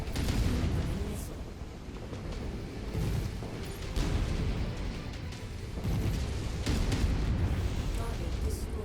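Booming missile explosions and weapon fire from the MechWarrior 5 video game, a loud rumbling barrage with several heavy bursts rolling one into the next.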